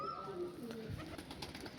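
Pigeons of the pure Kalaka line, a male and female pair, coo softly close by in a loft, their low murmuring voices running steadily through the short stretch with faint rustling beneath.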